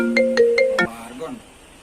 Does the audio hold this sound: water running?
no